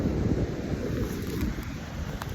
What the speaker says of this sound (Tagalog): Sobrang lakas ng hangin, grabe.